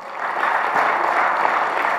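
A church congregation claps hands together in a steady, dense burst of applause that fills the room, close and fairly loud throughout, with no talking over it.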